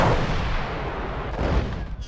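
Heavy artillery fire in a video game rumbles with deep, booming blasts that merge into a continuous low roar, with a second thump about halfway through.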